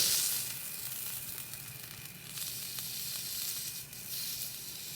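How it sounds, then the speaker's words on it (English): A stuffed pork loin sears in a hot pan, giving a continuous close sizzle and hiss that swells and eases slightly, with no voices. "Let it sear for about a minute on this side."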